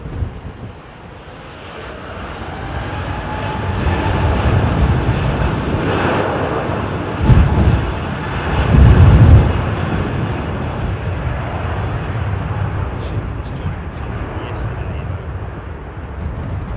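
A jet airliner rolls out for departure at London Heathrow Airport, a steady broad engine roar building and swelling with brief louder surges, heard close with wind buffeting the microphone and a voice talking over it.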